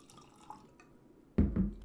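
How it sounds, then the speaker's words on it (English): Mellow Corn straight corn whiskey is poured into a Snoot glass, starting with faint drips and clinks and then a sudden louder splash of liquid filling the glass, close up. "I'm gonna pour a little bit into my Snoot glass."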